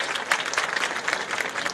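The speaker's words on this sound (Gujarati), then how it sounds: "આપણે શું તાળીઓથી વધાવીએ" Loud, dense applause from a crowd at a Congress election rally in Anand, Gujarat, during the 2024 Lok Sabha campaign. The clapping is steady and close, with no voices over it.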